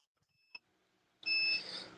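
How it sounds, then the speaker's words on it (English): Beeps heard over a phone or online call, one short tone followed by a louder, longer beep with noisy hiss behind it. "we still hear that beeping noise from your end"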